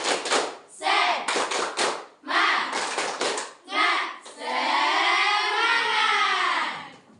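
A group of children claps in quick rhythmic bursts and chants "Tepuk semangat" together in Indonesian, ending in a sustained loud shout.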